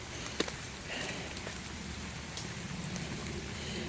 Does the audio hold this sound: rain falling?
yes